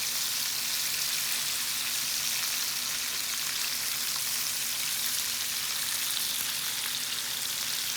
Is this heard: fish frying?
yes